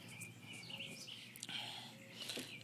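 A baby bird gives faint, scattered high chirps and tweets close by, with quiet rustling in between.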